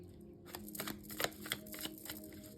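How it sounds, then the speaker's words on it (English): Tarot cards are shuffled in a quiet room, a soft run of riffling and flicking taps close by with a faint steady hum underneath. "Karen, I'm going to shuffle one more time."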